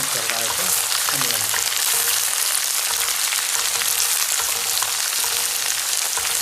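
Chopped onion and green chilies frying in oil for a jackfruit masala curry, a dense, steady sizzle and crackle filling the whole stretch with no let-up and no talk.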